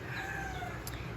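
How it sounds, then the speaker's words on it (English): A chicken or rooster outdoors calls faintly in the distance, a short cry behind steady background noise with no speech. "You'll probably be hearing the chicken outside."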